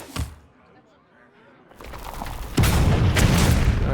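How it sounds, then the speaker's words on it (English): Bomb exploding in Hearthstone during a Bomb Warrior match, a sharp thud followed by a quiet lull, then a rising, rumbling blast that carries on densely to the end. "Alright, bomb went off."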